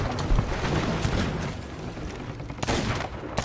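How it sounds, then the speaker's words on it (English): A cannonball strike in the naval video game Sea of Thieves: continuous loud, booming rumble and crashing noise throughout, with a sharp sudden impact burst near the end, close and heavy, with no clear talk over it. "I just got hit by a fucking cannonball again"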